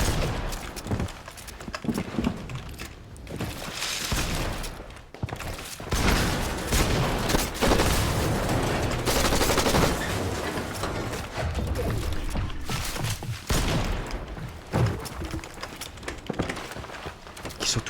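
Gunfire from a video game shooter, with dense bursts of shots and mechanical weapon clatter running nearly nonstop, while players talk excitedly over the action.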